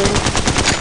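Rapid automatic gunfire from Apex Legends Mobile, a dense, continuous burst of loud, closely spaced shots filling the short moment with no speech.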